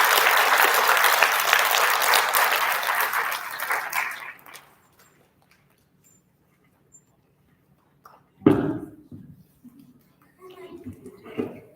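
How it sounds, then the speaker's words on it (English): Loud applause and cheering from a crowd at an elementary school student recognition ceremony fills the first few seconds, then fades to quiet, followed by scattered nearby sounds and brief voices. "nice big round of applause for our special area students"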